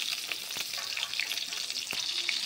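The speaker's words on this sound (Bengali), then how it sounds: "আমাদের ফোড়নটা বেশ ভালো করে ভাজা হয়ে গেছে, তোমরা দেখতেই পাচ্ছ। এবার আমরা অ্যাড করে দেব টমেটো কুচি," Chopped tomato goes into a pan of spices frying in oil, giving a continuous, close, hissing sizzle with scattered crackles and light stirring clicks.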